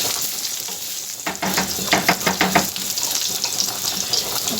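Tomato paste hitting hot oil with fried garlic in a pan, a loud burst of sizzling that turns into crackling bursts as it is stirred, close and steady with no talk.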